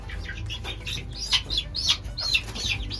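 A rooster and hens cluck and squawk in a chicken coop, with short, bright, repeated calls close by over a low hum and some rustling.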